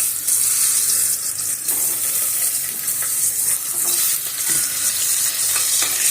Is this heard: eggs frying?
yes